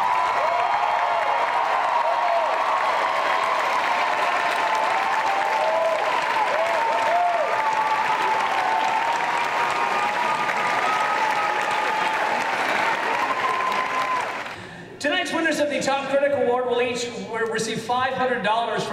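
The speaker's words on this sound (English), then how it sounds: "give them a round of applause for their tremendous efforts" A theatre audience at the 2013 Cappies awards show gives the Cappies critics a long, loud, sustained round of applause that roars evenly for about fourteen seconds before cutting off, after which a voice speaks.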